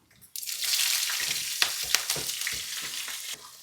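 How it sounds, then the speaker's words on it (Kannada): Hot oil crackling and spitting in a pan as cumin seeds go in for vegetable upma, a loud dense sizzle with sharp pops that starts abruptly after a quiet moment and stays steady, easing slightly at the end. "ಇವಾಗ ಸೌಂಡ್ ಬರ್ತಾ ಇದೆಯಲ್ಲ ನೋಡಿ. ಇದು ಇವಾಗ ಎಣ್ಣೆ ಕಾಯ್ದಿದೆ ಅಂತ ಅರ್ಥ."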